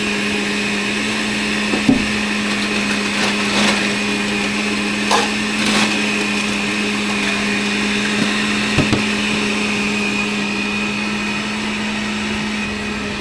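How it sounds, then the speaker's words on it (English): Blender whirring steadily while mixing a local island coffee drink on a Coron, Palawan boat tour, a constant motor hum with a few faint clinks and knocks, heard alone without talk. "In the blender. And mix all the crazy"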